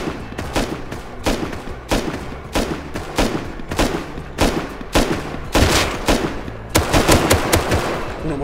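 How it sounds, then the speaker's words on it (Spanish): Close, heavy gunfire in the survival game Rust: a steady series of sharp, booming shots spaced roughly half a second apart, quickening into denser rapid bursts near the end, with no talk over them. "Me disparan a mí ya, me están disparando."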